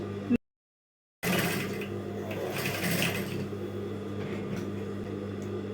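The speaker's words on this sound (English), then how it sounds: "I'll go ahead and top stitch it." A sewing machine runs steadily while top stitching a keyhole neckline, a continuous close mechanical whir after a brief pause near the start, with some faint background speech.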